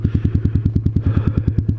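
A motorbike engine idles close by after its idle speed was turned down, putting out a steady, even train of low thumping pulses for about two seconds with no talking.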